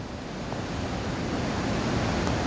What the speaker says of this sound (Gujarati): પાણી જે છે તે હાલમાં વહેતા જોવા મળી રહ્યા છે